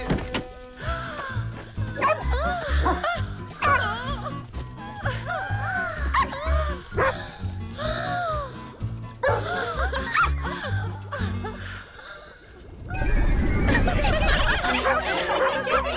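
Several small cartoon dogs bark and yip in quick, repeated bursts, lively and close, with bright musical accompaniment underneath, followed by a sudden loud, noisy rush near the end.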